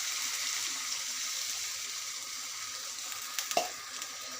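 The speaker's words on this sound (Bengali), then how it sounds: "মশলার জন্য আমি আস্তে আস্তে করে এটাকে এভাবে নাড়িয়ে নিব" Poa fish curry with masala frying in a pan while being stirred gently, a soft steady sizzle with a couple of brief clinks or scrapes near the end.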